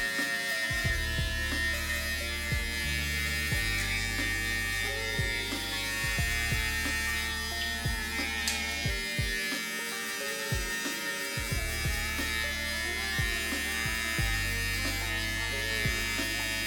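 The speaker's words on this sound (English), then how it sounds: "The sharpness of the blade and the power of this clipper, it just makes me able to fly through this work and get a nice crisp finish." A Babyliss Black FX hair clipper buzzes close up during a haircut, with a steady motor whine broken by repeated short pitch shifts as the blade bites into hair.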